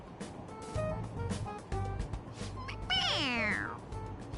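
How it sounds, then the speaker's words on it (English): A toy cat in Persona 5 Royal gives a single, clear, bright meow when pressed on its head, following some brief clicks and rustles. "It meows when you press on its head."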